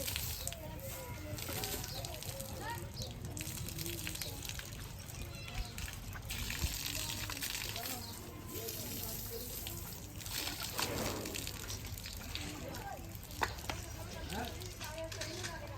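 Water runs and splashes steadily as an elephant is bathed at an elephant village in Jaipur, Rajasthan, with a continuous gushing wash, faint birds and people's voices in the background.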